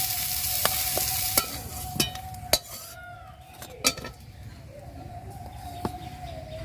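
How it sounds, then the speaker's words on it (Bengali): Young jackfruit pieces frying in oil in a pan for a prawn curry, with a steady low sizzle under sharp clinks and scrapes of a metal utensil against the pan, and a faint bird chirp in the background. "এই দেখুন বন্ধুরা, এঁচড়টা কিন্তু খুব ভালো করে আমি ভেজে নিয়েছি।"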